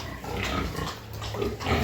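Pig on a Ukrainian smallholding making steady, repeated low grunts close by, heard alone and fairly loud over a short stretch.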